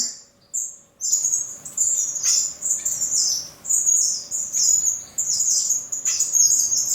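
Blue-naped chlorophonia finches in an aviary give loud, high, repeated squawking calls and chirps, near and almost continuous after a brief quiet start, with no talking.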